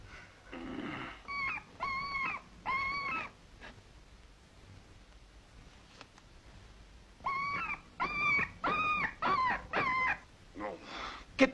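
A dog whimpers and howls in drawn-out, wavering cries, two short bursts then a longer run of four or five rising yelps and howls, fairly close and clear.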